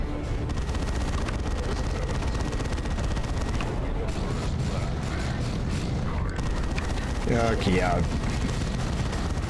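Missile explosions in Dawn of War 2 Chaos Rising, a Warhammer 40K strategy game, as a dense rumble of booms and blasts runs throughout, with a brief sharper burst near the end and someone speaking briefly over it.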